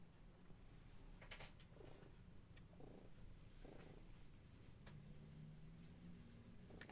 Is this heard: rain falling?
no